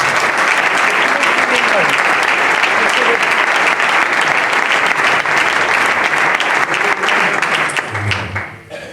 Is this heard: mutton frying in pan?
no